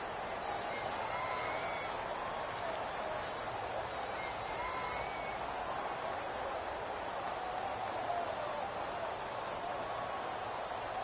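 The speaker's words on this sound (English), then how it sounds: "the crowd getting into it as we come up on a big 3rd down" A steady, distant roar of a stadium crowd in a football video game swells evenly through the whole stretch, a broad wash of cheering with no distinct voices.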